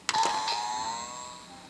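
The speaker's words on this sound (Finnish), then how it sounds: "Joku soitti ovikellon." A doorbell chimes once indoors, a sharp strike followed by a bright ringing tone that fades away over about a second and a half.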